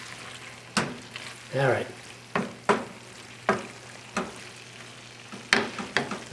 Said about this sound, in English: I'm going to fold it in, fold it in some more.